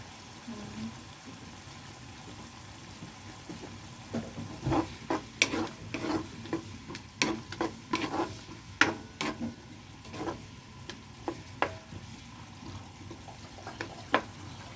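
Mixed vegetables are stir-fried in a pan with a low steady sizzle, while a utensil scrapes and clinks against the pan at irregular intervals; a quiet indoor kitchen setting.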